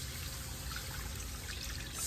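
Liquid with bouillon pours into a pan of pork chops, a soft steady trickle and hiss that stays faint and constant throughout.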